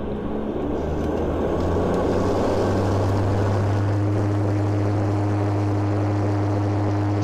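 An ANA Bombardier turboprop airliner with variable pitch propellers taking off, heard from inside the cabin as a loud, steady propeller drone and engine roar that builds and holds with a deep tonal hum.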